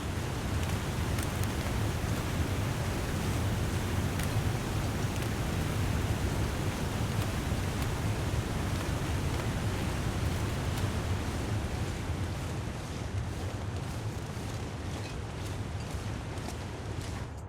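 Steady wind ambience in The Long Dark survival game, a constant broadband white-noise rush that fills the whole stretch at an even level with no talk.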